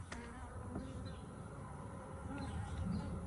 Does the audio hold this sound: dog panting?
no